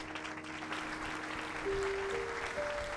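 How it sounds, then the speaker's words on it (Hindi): A church congregation claps together in a steady, even wash of applause, with a sustained tone underneath and no talk over it. "लिए जोरदार तालियां बजाएं।"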